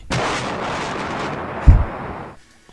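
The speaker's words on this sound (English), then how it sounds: "those transitions with the explosions" A booming explosion transition effect in a game review, a sudden loud blast that rumbles for about two seconds with a heavy low thud near the end, then cuts to near silence.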